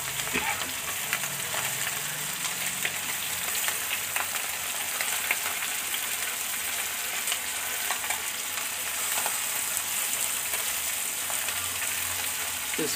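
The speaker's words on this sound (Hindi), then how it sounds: "इसको अभी हम ढकने वाले नहीं हैं, इसको ऐसे ही फ्राई करेंगे एक 10 मिनट तक के लिए।" Chela fish fry uncovered in a kadhai over a low flame, with a steady, even sizzle and crackle that continues throughout without talk.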